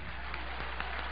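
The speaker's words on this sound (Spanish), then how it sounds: "Denle un aplauso, hombre." A church congregation applauds during a Spanish-language sermon, a steady wash of clapping held at an even level through the whole short stretch, with a few sharper claps standing out.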